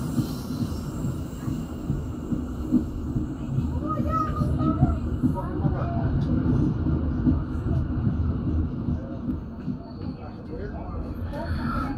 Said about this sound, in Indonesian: Akhirnya teman-teman, kita masuk stasiun Bandung pada pukul 16:17